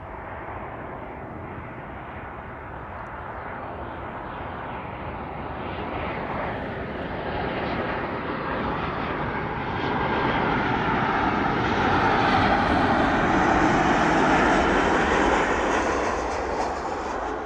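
A jet airliner lands at East Midlands Airport, its broad engine roar building steadily and swelling louder toward the end, a continuous near rumble with no talking.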